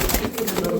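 Tatira Madrasi pigeons give soft, low, continuous cooing at close range, with no clear breaks between calls.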